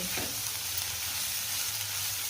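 Steady, dense sizzling of sliced onion and coconut frying in a hot pan, continuous and fairly loud with no voices.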